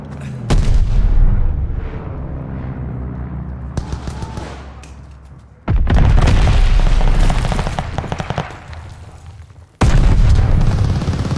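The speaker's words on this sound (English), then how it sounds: "allies called a bombing run." Bombing-run explosions in a video game land as heavy, loud booms in separate waves, each a sharp blast that rolls and decays into rumbling debris before the next strike hits.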